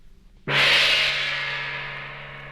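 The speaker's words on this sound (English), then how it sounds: "Here is a great big gong." One loud metallic strike on a large gong blooms into a sustained, shimmering wash with a steady low hum underneath, slowly decaying.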